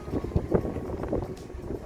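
Strong wind buffets the microphone in low rumbling gusts, steady throughout with no voices, in cold weather at Hakone, Japan.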